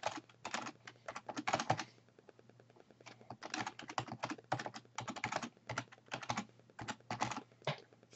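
Someone types a domain address on a computer keyboard, with quick bursts of close, crisp key clicks separated by brief pauses.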